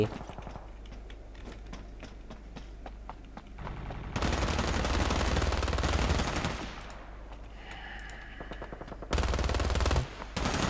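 Video game gunfire in bursts of rapid automatic shots, with loud dense stretches from about 4 to 6.5 seconds and again near 9 to 10 seconds, separated by quieter scattered shots and background game noise.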